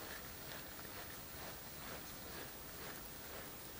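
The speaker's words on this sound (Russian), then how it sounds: "Дождик заморосил." Soft, steady rain patters continuously outdoors on a riverbank while fishing, a faint even hiss of light drizzle with no voices.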